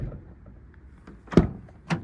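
A VW Transporter 6.1 van door with no seal fitted shuts in one loud, close thump, then gives a softer rattling knock a moment after, over quiet background noise.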